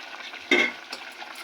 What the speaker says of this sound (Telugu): ఇప్పుడు సాల్ట్ వేసాను, కలిపెడుతున్నా.